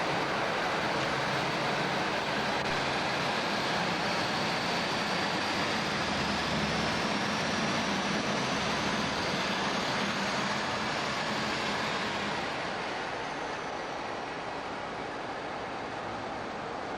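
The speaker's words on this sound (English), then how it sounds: "we see an unidentified Class 47 arriving with 4 coaches from Dundee" A Class 47 diesel locomotive pulls four coaches in from Dundee at Edinburgh Waverley station in the 1980s, with a continuous heavy rumble and rolling wheel noise that stay loud throughout and ease slightly near the end.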